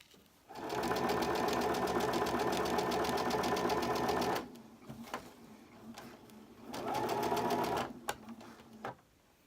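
Sewing machine quilting layered fabric, running in a steady fast stitching burst for about four seconds, pausing with small handling clicks, then a shorter second run before stopping.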